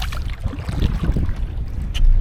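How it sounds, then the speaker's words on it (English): Gusty wind buffets the microphone on a lake in the Boundary Waters canoe country, low rumbling bursts rising and falling over a couple of seconds, with no voices. "So it's a little windy."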